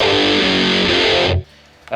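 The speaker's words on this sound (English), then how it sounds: "you can stay on your big distortion" An electric guitar with heavy overdrive distortion rings out loud and thick in a rock style, then cuts off abruptly, leaving a brief near-silence before another sharp hit starts.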